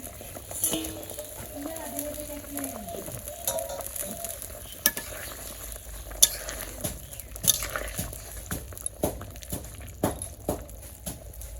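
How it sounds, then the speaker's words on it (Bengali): Fish being added to a nearly finished Tangail-style chuka curry in a village kitchen, with steady frying sizzle, stirring scrapes and occasional utensil clinks against the pan, while a voice talks over the cooking. "আমার তরকারি প্রায় হয়ে গেছে মাছগুলো দিয়ে দিই"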